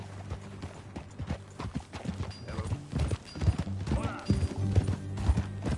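Horse hooves clip-clop steadily while riding in Red Dead Redemption 2, a brisk, continuous rhythm over a low in-game ambient backdrop, with no talk in the clip.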